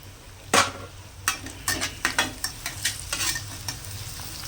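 Onions fry in a pan for egg rice, a sizzling bed broken by a series of sharp spatula scrapes and stirring clacks in an irregular rhythm, close and fairly loud, no speech.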